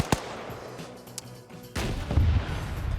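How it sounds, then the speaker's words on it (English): Gunfire in a large-scale online battle video game cracks out in a few sharp, loud shots, followed by a heavier burst of rumbling fire and distant booms. "Follows up with some gunshots."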